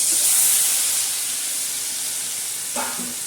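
A ground yellow masala paste with turmeric hits a hot pan for a surmai fish dish, giving a loud, hissing sizzle that slowly fades, followed by a brief clank near the end, with no talk.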